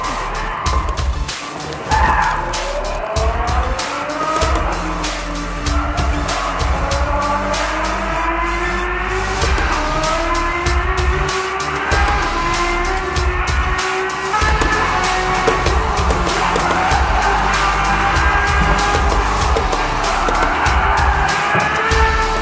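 Race car in a racing video game, shifted into first gear and accelerating with no clutch, throttle and brake only: a loud, constant engine drone with rising and falling revving pitch, running steadily throughout and dominating the mix.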